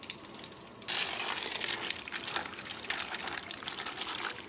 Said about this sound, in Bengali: সবজিটা আমি কেটে একটু ধুয়ে নিচ্ছি